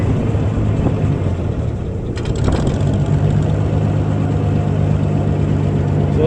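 A Gleaner A combine engine runs steadily at idle close by, a constant low droning hum with a brief mechanical rattle partway through.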